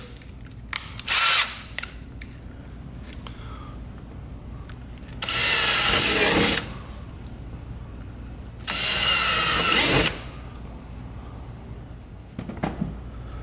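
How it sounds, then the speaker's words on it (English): A power drill with a 3/16-inch bit drills rivet holes for kayak bungee deck rigging in two sustained bursts of a few seconds each, with a brief shorter burst earlier and light handling clatter between. "When you're installing it with rivets, you want to use a 3/16 drill bit."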